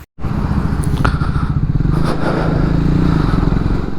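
A Triumph motorcycle being ridden, its engine a steady, loud, close throbbing rumble running continuously with faint clatter over it.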